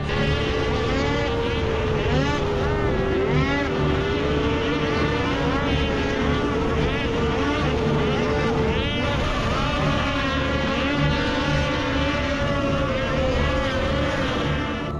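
Racing motorcycle engines are heard from a drone above the track. A continuous droning whine with wavering, shifting pitch runs throughout at an even, moderate level, like several engines blended together.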